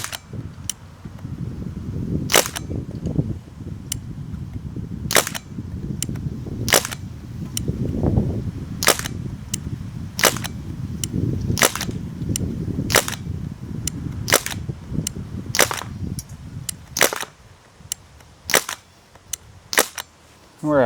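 An airgun fires pellets at a target in a series of about a dozen sharp, snappy shots spaced a second or two apart. Steady background noise runs between the shots, and there is no speech.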